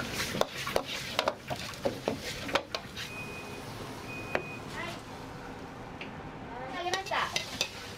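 Mapo fried rice is stir-fried in a pan, with repeated spatula scrapes and clanks over a low sizzle, close by, while a voice talks in the background.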